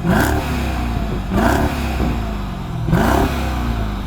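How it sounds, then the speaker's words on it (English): A V8 engine revs in three sharp blips, each climbing fast then dropping back to a rough, burbling idle, loud and close with exhaust clatter between them. "Would you like to cause some noise and exhaust pollution by revving up your V8?"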